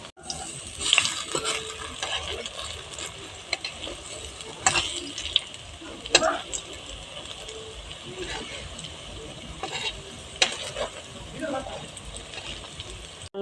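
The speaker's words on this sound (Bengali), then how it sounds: "এখন বড়া ভাজবো" Masoor dal fritters (bora) fry in oil with a continuous bubbling sizzle, broken by sharp clinks and scrapes of a utensil at irregular intervals, and a voice speaks intermittently over it.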